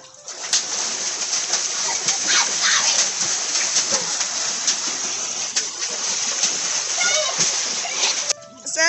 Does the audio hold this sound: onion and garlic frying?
no